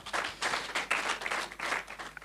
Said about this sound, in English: Let's give applause to.